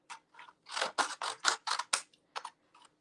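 Scissors trimming sheets of paper, a close run of sharp, fairly loud snips in quick uneven succession, then a few lighter cuts trailing off, with no voices.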